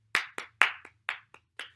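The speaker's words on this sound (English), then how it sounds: "How about a round of applause from all you folks at home?" A few sharp, close hand claps, about six in under two seconds, uneven in spacing, greeting a performing dog on a variety show, with no crowd behind them.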